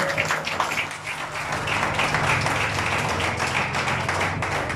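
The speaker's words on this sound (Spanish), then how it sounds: "Fuerte los aplausos, por favor," Audience at a quinceañera celebration clapping steadily throughout, a dense continuous patter of many hands at moderate volume with crowd murmur beneath.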